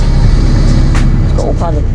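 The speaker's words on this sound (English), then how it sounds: "Sound on the bus." Inside a newer, padded bus on the way to a charity rugby tournament, a loud, steady low engine and road rumble fills the cabin, with faint voices and brief tonal sounds over it.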